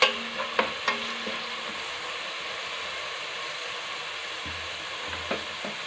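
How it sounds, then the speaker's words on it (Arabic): Ingredients sauté and sizzle in a hot pan for a pasta dish in tomato sauce, a steady close frying hiss with a few sharp clicks of stirring near the start and again near the end. "صافي نشحروهم"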